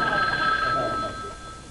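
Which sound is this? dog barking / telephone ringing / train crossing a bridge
telephone ringing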